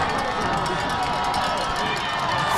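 High school football crowd at a Ludlowe vs Norwalk game: a steady, loud roar of many voices, cheering and murmuring continuously, with an announcer's voice blended over it.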